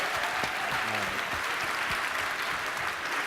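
Crowd applause at the Do Good Challenge Finals 2017 event, a short burst of loud, dense clapping from an audience with faint voices mixed beneath it.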